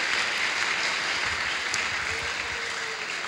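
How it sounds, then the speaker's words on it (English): Applause from an audience after a high school musical, a dense continuous wash of many hands clapping at a steady level for the whole stretch, with no voices standing out. "So you should give yourselves a round of applause."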